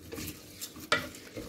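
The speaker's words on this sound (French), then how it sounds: "On va venir mélanger." Lentils being stirred in a cooking pot, a soft scraping swirl with faint sizzling and one sharper clink of utensil against the pot near the end.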